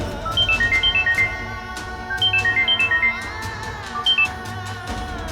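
A phone rings unanswered, repeating a bright electronic ringtone pattern in three separate bursts of rapid, pulsing tones over a low background hum.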